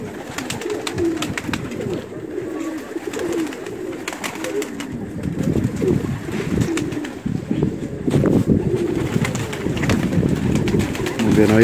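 Pigeons coo repeatedly close by, soft throaty calls layered over steady wind noise and occasional human voices in the background.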